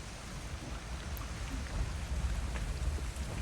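Steady rainfall during a storm in the video game Avatar: Frontiers of Pandora, a continuous soft hiss of drops with a low rumbling undertone, evenly sustained and without any voices.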